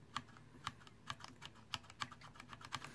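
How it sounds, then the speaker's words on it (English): Typing on a mechanical keyboard with Cherry MX Red linear switches, each key bottoming out with a soft, non-clicky clack; a steady, uneven run of keystrokes, close and alone. "Cherry MX Red, linear switch, so as I'm pressing this down, I'm not getting any feedback or tactile response from the switch until it bottoms out,"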